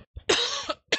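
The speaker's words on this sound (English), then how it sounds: "Only when I do video I cough that much." A short, close cough, a couple of harsh bursts in quick succession, fairly quiet.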